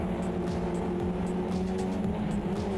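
Race car engine in AMS2 racing game under heavy braking, a steady droning engine tone with downshift sweeps, continuous and fairly loud throughout, no talk.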